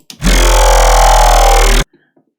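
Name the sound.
Sytrus synth growl without operator 3 modulation, FL Studio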